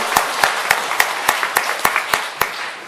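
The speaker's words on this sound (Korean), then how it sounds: "하나님께 영광의 박수를 보내겠습니다." Congregation at a Korean church worship service claps in unison, roughly ten sharp, evenly spaced beats in a steady rhythm, fairly close and loud, with no voices over it.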